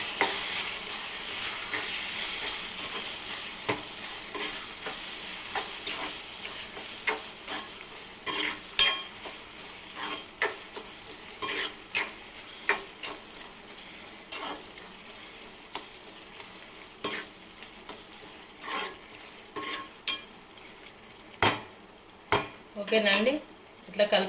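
A spoon stirs garam masala into prawn curry in a pan, producing repeated metallic clinks and scrapes over a low sizzle, quiet and close, with no speech.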